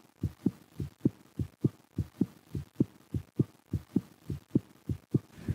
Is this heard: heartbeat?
yes